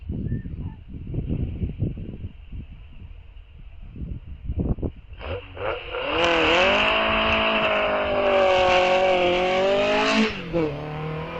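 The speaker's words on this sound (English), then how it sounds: "Watching Mark Everett off the line there in his TVR." A TVR race car launches off the start line at a Castle Combe Circuit sprint, engine blipping in short bursts before a loud sustained climb through the revs, pitch rising and dipping with gear changes.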